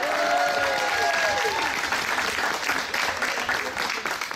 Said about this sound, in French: Je vous demande un tonnerre d'applaudissements pour Arnaud